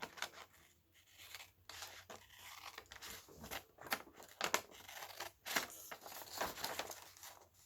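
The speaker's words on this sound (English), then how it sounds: "I think what I will do is just simply cut this white edge off here." Scissors snip repeatedly through a page of junk mail paper, trimming off its white edge: a close, quiet series of crisp cuts and paper rustles in an uneven rhythm.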